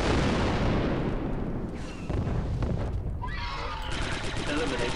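Gunfire and blasts from the Star Wars shooter Republic Commando crackle through a dense, busy game mix while a voice talks over the action.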